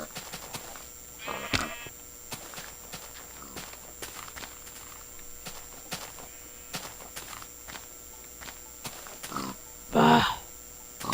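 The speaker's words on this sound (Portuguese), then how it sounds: "Nossa, quanto porco." Pigs oink in the Minecraft Aether game, with short grunts scattered over a quiet background hum and one louder burst near the end. A person speaks briefly.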